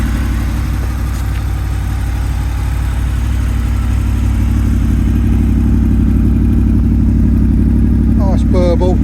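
A Honda VFR800 V-TEC motorcycle with Arrow exhaust cans idles loud and close, a steady low burbling thrum held throughout with a brief higher flutter near the end.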